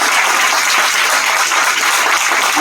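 An audience claps loudly and continuously at a business talk, a dense, even patter of many hands with no voices over it.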